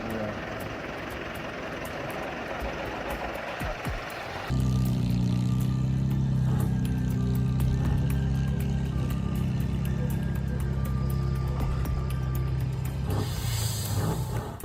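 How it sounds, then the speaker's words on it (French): Deep, steady engine rumble from two giant trucks in a tug-of-war contest on a dusty square, swelling louder partway through and holding, a heavy low growl with some mechanical rattling on top. "Les moteurs grondent"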